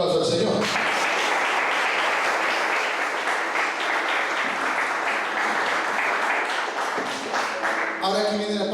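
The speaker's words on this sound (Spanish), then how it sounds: "Denle un aplauso al Señor." A church congregation claps to honour the Lord in loud, sustained applause that fills most of the moment, with brief speech-like sounds at the start and end.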